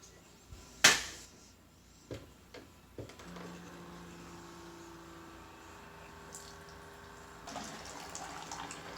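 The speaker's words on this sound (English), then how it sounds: "we dump any remaining water from the reservoir, put clean water in, and rinse it several times" Water splashes and runs in a sink as a Keurig K-Cafe reservoir is rinsed with clean water, starting with a sharp clatter, then a few knocks and a steady trickle.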